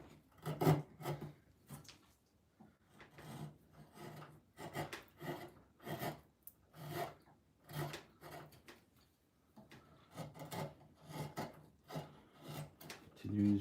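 Hand carving of a wooden face with a fishtail gouge: steady, close scraping and rasping strokes in short repeated bursts with brief pauses, no talking.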